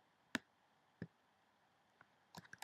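A computer mouse clicks quietly: single sharp clicks spaced apart, then a quick cluster of several clicks near the end, against a near-silent background.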